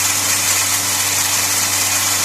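Volkswagen Lupo petrol engine held at raised revs during hydrogen decarbonization, a loud, steady droning hum with constant vibration and no audible speech.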